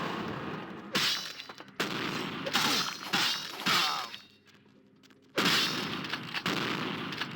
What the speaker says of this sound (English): Oh, shotguns.